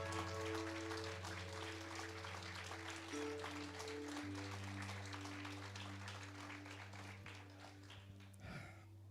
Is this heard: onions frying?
no